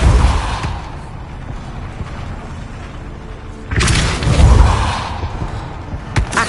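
A Depulso force-push spell fires in Hogwarts Legacy, a single loud whooshing boom that swells and fades after a quieter stretch of ambient game background, with a few softer thumps at the end.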